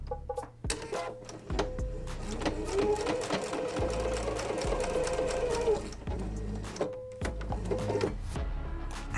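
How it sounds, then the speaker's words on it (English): A sewing machine stitches the first line of a snowball-corner half-rectangle triangle quilt block. Near, rhythmic needle clatter and motor hum run in bursts, with a longer stretch in the middle and short starts and stops at either end. "Now that we're at our sewing machine, we are ready to stitch."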